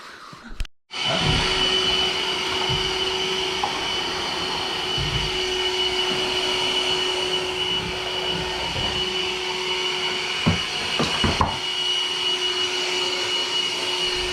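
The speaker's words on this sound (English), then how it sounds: "I was hoovering the floor" A vacuum cleaner hoovers a floor during second-fix kitchen electrical work, a loud steady motor whine running almost without break after a brief start, with a few knocks and bumps near the end.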